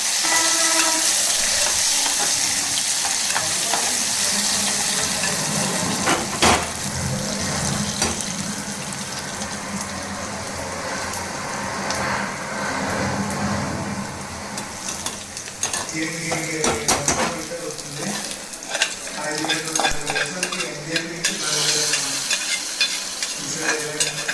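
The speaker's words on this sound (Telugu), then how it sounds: "సో ఇంకా పప్పులో వేసేసి మిక్స్ చేసేసి" Browned fried seasoning is stirred into cooked dal in a pan, with steady scraping and sizzling, close and fairly loud, with scattered clinks of the spoon and no talking.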